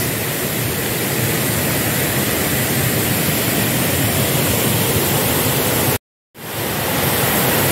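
Falling water at the Ayyappanchola waterfall, a loud, steady broadband roar heard close by. It cuts out briefly near the end and then resumes, with no voices.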